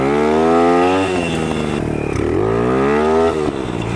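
A dirt bike engine revs hard during wheelies, a loud, close buzzing whine that rises and falls through several throttle blips without any talking.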